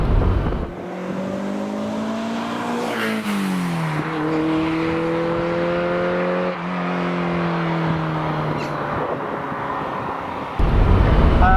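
Ferrari 308 V8 fitted with a new sports exhaust, running close by with a loud droning engine note that rises and falls through several revs, the exhaust tone sweeping up and down, no voices.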